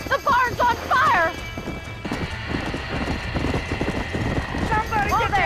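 Horse hooves clip-clop with whinnies and neighs in a burning-barn scene from the Red Dead video game, busy and close, with voices talking over it.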